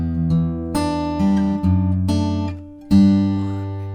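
Acoustic guitar strums and picks a simple chord pattern, several struck chords ringing out in a steady rhythm, close and clear with no talking.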